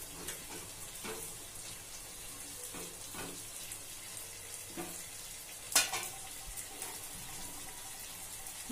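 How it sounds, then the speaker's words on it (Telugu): Broken wheat rava being dry-roasted in a pan, with soft, intermittent scraping stirs over a faint background hiss and one sharp metallic clink, quiet and close. "ఇంతలో మన రవ్వ వేయించుకుంటామండి."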